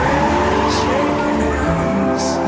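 A car in a film action scene revs hard with tire squeal and skidding, loud and close under a dense music and effects mix, with brief high squeals near the start and the end.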